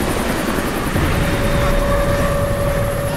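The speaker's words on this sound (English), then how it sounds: "we really need to shake this chopper" A helicopter in the video game Deadlight chases the player, its rotor and engine making a loud, continuous, close whirring drone throughout with no voices.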